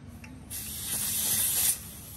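Battery-powered mini air pump's hose is unscrewed from a motorbike tyre, releasing a loud, steady hiss of escaping air that swells for just over a second, then cuts off abruptly.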